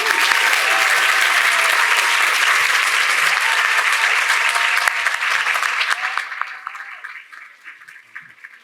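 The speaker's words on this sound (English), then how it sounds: "Let's give them a loud round of applause." Audience applause greeting panelists and a moderator at a civic event on book bans, dense steady clapping from a crowd that holds loud for about five seconds, then thins and fades away to scattered claps.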